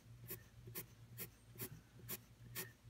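Pencil flicking out in quick outward strokes across paper to build a basket weave texture, six evenly spaced dry rasping scratches, close and quiet with no voices.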